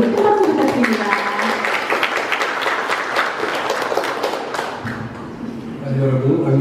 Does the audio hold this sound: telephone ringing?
no